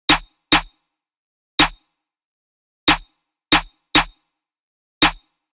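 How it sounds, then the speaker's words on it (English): Sharp, punchy snare hits from a UK drill beat play alone in a syncopated pattern, eight crisp isolated strikes spaced unevenly across a few seconds. "the snare pattern ended up sounding like this"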